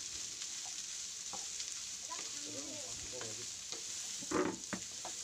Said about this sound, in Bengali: এখন এটা আমি নেড়ে চেড়ে মিক্স করে নেব।